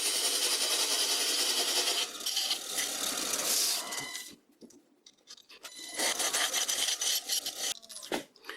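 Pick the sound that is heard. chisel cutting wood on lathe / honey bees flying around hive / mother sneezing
chisel cutting wood on lathe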